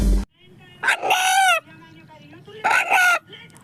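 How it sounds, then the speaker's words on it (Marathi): A rooster crows loudly twice, close by, each call long and drawn out, with quieter background noise between. "अण्णा या नावाने हाक मारणारा कोंबडा"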